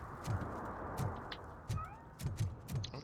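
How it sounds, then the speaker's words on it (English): A cat meows several times in the Robocop Rogue City video game, faint and short cries scattered over a quiet background hum with soft rhythmic thuds like footsteps. "Oh, there's a cat somewhere."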